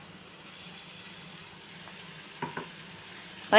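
Ginger, garlic and chili paste fries in a pan for a cashew curry, giving a soft, steady sizzle with a few stirring knocks and scrapes near the end, with no talking.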